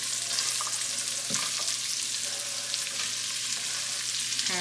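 Carrots and celery frying in a pan for pasta e fagioli: a steady, close sizzle holds throughout, with a few faint scrapes and clinks of stirring.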